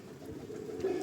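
Pigeons in nest boxes give a soft, low coo that rises near the end of a short stretch, faint over a steady background rumble, with no talking.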